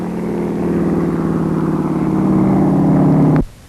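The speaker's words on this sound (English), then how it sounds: "They take off for a test flight in that two-engine standard Boeing plane." Two-engine standard Boeing plane revving for a test-flight takeoff, a loud, steady droning engine roar with strong low tones that rises slightly, then cuts off abruptly.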